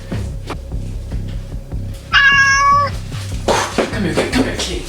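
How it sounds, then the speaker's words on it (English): A cat gives a single clear, harmonic meow lasting under a second, close and fairly loud, set against a low throbbing hum and scattered clicks and rustles. "Come here, kitty."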